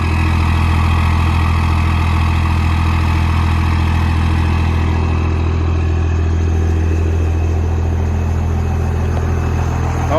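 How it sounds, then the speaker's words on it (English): A truck engine idles with a steady, loud low rumble and continuous drone, a faint higher whine of the turbo spooling riding above it, close and unbroken for the whole stretch. "You can hear the little the spooling of the turbo."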